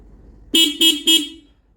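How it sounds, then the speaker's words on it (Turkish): Three short, loud honks from a TVS Ntorq 125 motor scooter horn in quick succession, close by, the last one held slightly longer before cutting off. "Bakalım korna nasıl."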